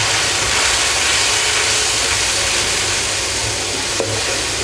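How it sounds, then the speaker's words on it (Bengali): Spice paste of salt, chili powder and turmeric being sautéed in oil in a pan for hilsa fish ghata, a loud steady sizzle filling the whole stretch with a faint scrape of stirring near the end. "দিয়ে এটাকে আমি ভালো করে মশলাটাকে কষাবো।"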